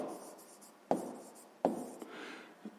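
Numbers being written out during a sixth-grade maths lesson, a few soft scratchy strokes of pen or chalk with sharper taps between them, close and quiet with no voice.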